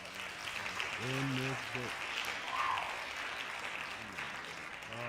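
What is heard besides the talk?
applause clapping effect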